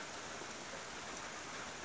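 Heavy rain pours steadily on a garden plot in a downpour, a dense continuous hiss with no pauses, close and even throughout.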